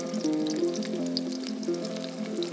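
Onion frying in hot oil for a shrimp and pui greens dish at an outdoor picnic cookout, a steady close sizzle and crackle that holds evenly throughout, with soft background voices.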